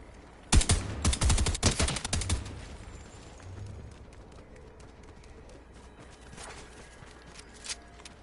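Rapid bursts of video game gunfire crackle loudly for about two seconds, then thin out into scattered fainter shots and movement sounds in the background.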